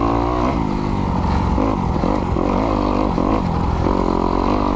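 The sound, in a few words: Kawasaki KX250X dirt bike engine riding in snow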